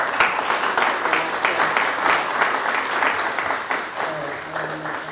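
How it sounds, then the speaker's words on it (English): An audience at an emancipation discussion panel gives a sustained round of applause, many hands clapping at steady strength with some murmured voices underneath, fading slightly toward the end. "a round of applause"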